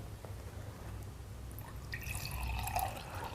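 Tap water is poured into sesame seed oil in a container, giving soft drips and then a brighter trickling pour toward the end, quiet and close.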